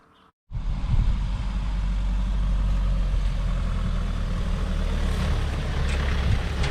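A Mahindra 4x4 fitted with wide tyres starts its engine after a short quiet moment, then runs on with a steady, loud, low diesel rumble close by.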